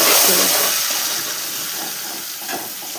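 Spices sizzle and hiss in hot oil in a pan while being stirred for a buttermilk sev curry, a loud, steady frying sound that eases slightly after the first moment.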